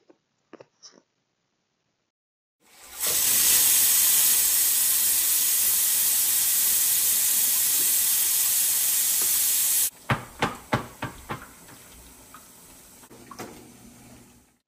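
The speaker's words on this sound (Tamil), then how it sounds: "குக்கர் சவுண்டு வந்ததுக்கப்புறமா ஆஃப் பண்ணிவிட்டு அந்த சவுண்டு வந்து தானாக அந்த கேஸ் எல்லாம் வந்து ரிலீஸ் ஆனதுக்கப்புறமா" A pressure cooker on an Indian home stove, used for seeraga samba mutton biryani, releases steam in a loud, steady hiss lasting several seconds after a few faint clicks, then stops abruptly and gives way to clattering kitchen knocks.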